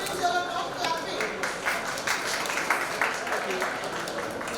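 Students at a 2023 convocation ceremony clap in a hall, moderately dense applause with uneven bursts that keeps going at a fairly even, not very loud level.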